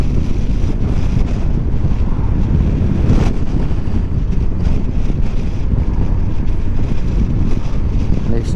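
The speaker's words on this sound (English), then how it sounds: "And it's still windy down here as well." Strong wind at the bottom of Rootham Hill, on a Honda NT1100 motorcycle ride, roars and buffets the microphone continuously, a loud, rough outdoor rush with no speech.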